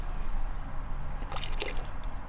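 Shaken liquid dye is poured into a GOURCK Rucker 3.0 cooler, giving a brief, close splash and dribble midway through, set against a low steady background hum.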